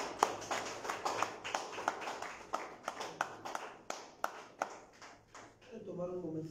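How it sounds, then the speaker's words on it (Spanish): A church congregation claps for the Lord during a Thursday evening service, a run of fairly quick, scattered claps at moderate volume with voices mixed in, ending as a person begins speaking. "Den un fuerte aplauso al Señor"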